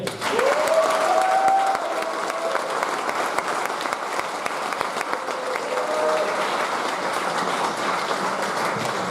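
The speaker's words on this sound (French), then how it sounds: "On peut les applaudir." Sustained audience applause fills a hall at a school graduation ceremony in Princeville, a dense, steady wash of clapping from a large crowd with a few brief tonal sounds over it.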